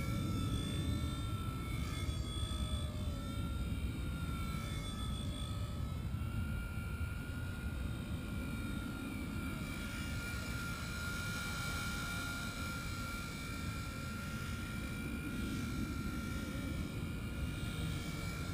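A Blade mCP X 2 RC helicopter with AS3X hovers and flies, its steady high-pitched rotor and motor whine continuing throughout, fairly close and alone.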